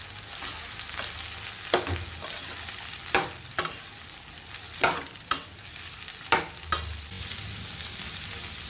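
Cauliflower sizzles and fries in a pan, with a steady close crackle and repeated sharp scrapes of a spoon stirring it, no talking.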